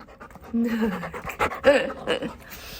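A chocolate Labrador pants quickly and audibly close by, breathy rhythmic huffs mixed with a brief whimper, while someone speaks softly over it.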